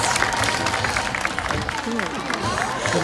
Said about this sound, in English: All right, Bunker, you need some applause first.